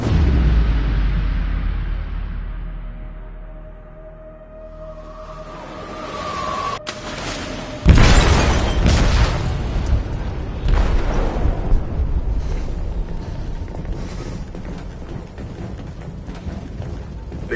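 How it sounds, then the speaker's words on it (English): A large explosive blast in a ship's hold in the video game Detroit: Become Human: a sudden loud boom that swells into a long rumbling, roaring aftermath. It follows a quieter stretch with a faint tone. "They detonated an explosive in the hold."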